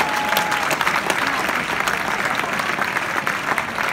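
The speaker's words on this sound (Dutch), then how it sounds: "geef hem een warm applaus" An outdoor theatre crowd in Amsterdam's Vondelpark claps warmly for a comedian, dense sustained applause with scattered sharp claps and faint cheering throughout.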